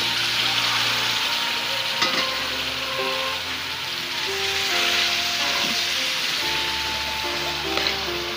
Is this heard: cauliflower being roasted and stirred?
yes